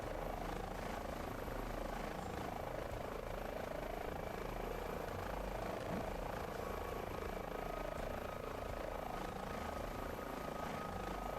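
Steady, loud rotor and turbine drone of an H125 helicopter in MSFS 2024, a continuous dense whir throughout with no pauses.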